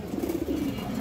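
Pigeons coo in soft, repeated throaty murmurs, fairly close and steady, with faint background noise and no talk.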